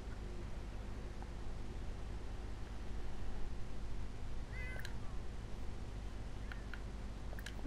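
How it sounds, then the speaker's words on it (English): Cats in The Sims 4 give a few short, faint meows late in the clip over a constant low background hiss. "Why is everybody meowing?"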